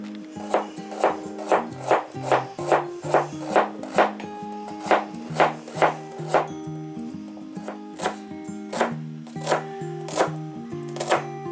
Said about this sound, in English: we're going to chop up some carrots and spring onions and some snap peas if I've got them